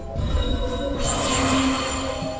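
Train sounds from the video game Bloodstained: a steady rumbling rail rattle with a brief high screech partway through, continuous and fairly loud with no talking.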